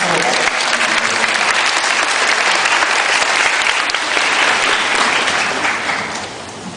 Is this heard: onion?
no